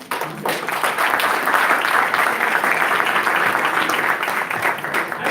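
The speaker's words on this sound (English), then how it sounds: "Please give a big round of applause for Councilman Tom Baker." Crowd at an awards gala giving a big round of applause, a loud, dense wall of clapping that rises quickly and holds steady for several seconds before easing slightly.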